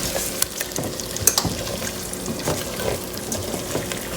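Extra masala stirred into stuffed baingan, eggplant curry, in a pan, a wet sizzling hiss with repeated scraping and clacking stirring strokes, close and busy throughout.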